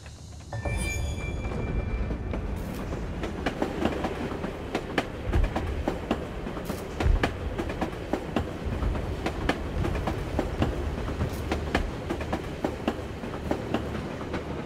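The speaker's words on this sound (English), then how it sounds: "Hurry and catch the train." A train rolls along the tracks in Assassin's Creed Chronicles: Russia, its wheels clicking and clacking in a steady rhythm beneath a continuous rumble, with sharp metallic ticks scattered throughout.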